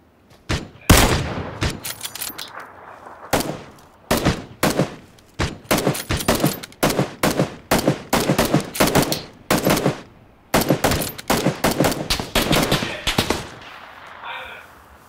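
Rapid automatic gunfire in the PUBG battle royale game, loud close bursts and single shots repeating in clusters across the stretch, with brief pauses between volleys and faint voices beneath.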